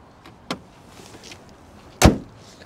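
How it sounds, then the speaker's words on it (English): Two car hoods on 2023 Hyundai Tucson SUVs are dropped shut, one after the other: a moderate thud, then a louder, sharper slam about a second and a half later, with quiet between. "Now let's go ahead and drop the hoods to these cars"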